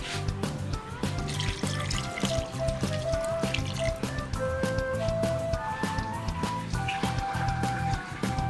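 Water is poured into a cooking pot already holding ginger, onion and salt for a fish and bamboo shoot dish, a steady close trickle and slosh over faint background clatter.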